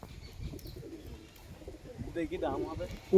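Pigeons cooing nearby with a few soft bird calls, low burbling notes that grow a little louder toward the end, with people talking over them.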